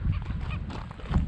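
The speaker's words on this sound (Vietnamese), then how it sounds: "đây có nhiều vịt nè." Ducks and other waterfowl at a Florida lake honk and call repeatedly at close range, with a steady background of wind and outdoor ambience.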